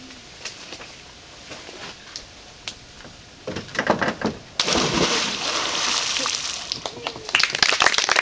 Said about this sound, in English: which is to jump into the water